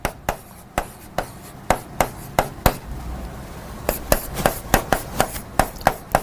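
Marker or chalk strokes tap and scrape across a board in a classroom, a sharp rhythmic series of close, distinct knocks and short scratches with brief pauses between bursts, no talking.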